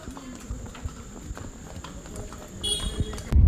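Horse hooves clip-clopping on a hill path at Matheran, a series of distinct, uneven knocks at close range, louder toward the end, over a light outdoor background.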